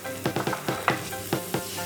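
Pancake batter fries in a hot pan over low heat, giving a soft steady sizzle broken by quick crackling pops and light scraping ticks, close and alone.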